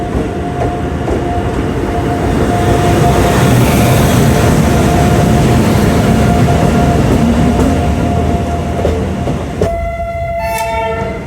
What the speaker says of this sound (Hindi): विसल सुनाई दे रही है और खुल गई हमारी ट्रेन